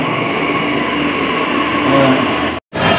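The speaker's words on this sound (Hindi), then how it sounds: "सो गाइस फाइनली आ चुके हैं समयपुर बैटली मेट्रो स्टेशन" A Delhi Metro Yellow Line train rumbles steadily at Samaypur Badli station, with a loud continuous roar of wheels and motors that swells briefly. Near the end there is a short moment of silence before the roar resumes.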